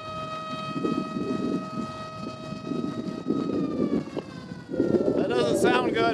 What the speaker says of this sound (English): That siren was to let you know what time it is.